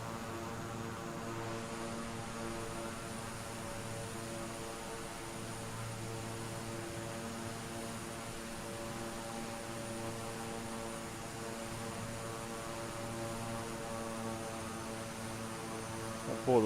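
A King Air 350 twin-turboprop in a flight simulator game holds a steady cruise at about 16,000 feet, its propeller drone a constant tonal hum that runs evenly throughout, loud and close with no talking.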